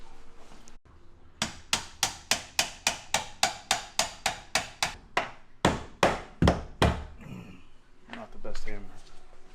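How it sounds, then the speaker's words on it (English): A steady run of about twenty sharp hammer blows strikes wood in quick rhythm during a bathroom demolition in a shop, close and loud, pausing briefly before a few more hits and brief talk. "Not the best hammer."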